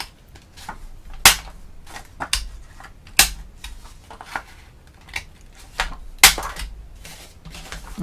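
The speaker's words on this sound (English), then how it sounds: "if you have a corner rounder, let's go ahead and round the corner now" A corner rounder punches the corners of paper, giving three loud, sharp snaps spaced a couple of seconds apart, mixed with softer handling clicks and paper rustles at close range.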